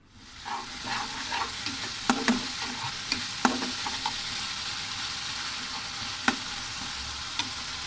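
Chili spice paste fries in a pan with a steady, close sizzle, broken by several sharp scrapes and clacks of stirring. There is no speech.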